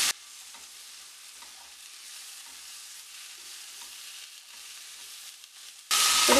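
Tomatoes sautéing in a pan for a paneer butter masala, a soft steady sizzle and hiss running continuously, with a brief louder burst of stirring at the very end.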